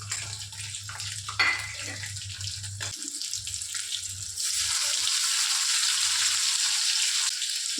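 Chicken leg pieces frying in hot oil, a steady bright sizzle that swells louder and denser partway through and holds close-up, with no talk over it.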